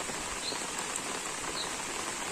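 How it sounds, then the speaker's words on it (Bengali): Steady rainfall patters in a village on a rainy morning, a soft, even wash of drops with no voices. "বৃষ্টির দিনে যেহেতু প্রচুর বৃষ্টি হচ্ছে"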